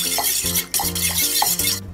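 Sauce of mirin and sugar is stirred in a bowl, giving a steady rhythmic scraping and clinking of a utensil against the bowl, close and fairly loud, repeating in even strokes.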